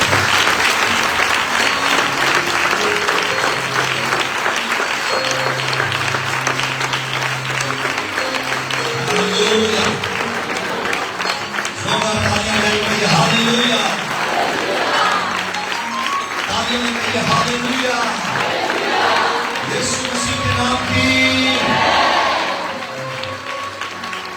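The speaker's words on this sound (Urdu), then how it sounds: "روح القدس کے اس موو کے لیے زوردار تالیاں بجائیں" Loud, sustained applause from a church congregation during a Holy Communion service, dense clapping mixed with voices and music tones, continuing steadily before easing near the end.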